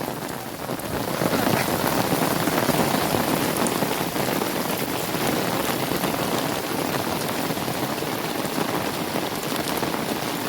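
Heavy, steady rain pours down in a village, a dense continuous hiss of drops on surfaces that stays loud and unbroken throughout with no voices.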